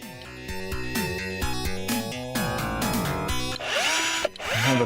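A cordless drill whirs in repeated short bursts, pitch rising and falling with each screw driven into a firewood cabinet, loud and close, ending in a longer grinding run.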